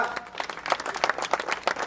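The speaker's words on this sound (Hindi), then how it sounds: "जोरदार तालियां" Crowd applause at a village welcome gathering in Gadadwas, Mahendergarh, as a guest is honored with a turban; moderate, uneven clapping with distinct sharp claps standing out, steady for about two seconds.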